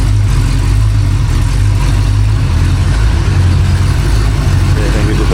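A rebuilt Ford 289 V8 runs on a homemade engine stand, a loud, constant low rumble of idle with no talking over it.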